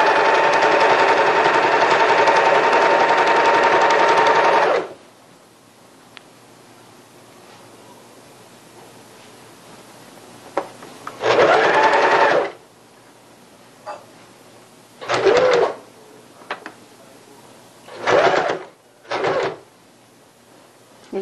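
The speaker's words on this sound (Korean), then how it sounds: "이렇게 하고 박음질 하시면 옆단이 깔끔하게 박음질이 됩니다." Sewing machine stitching the side hem of a fabric curtain, starting with a loud continuous run of several seconds, then several short bursts separated by quiet pauses.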